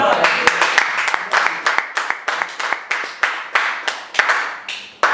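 A church congregation claps in a steady rhythm of sharp, close hand claps that repeat throughout, with crowd voices mixed in underneath.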